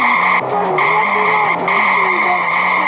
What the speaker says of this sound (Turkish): Drift atıyor araba.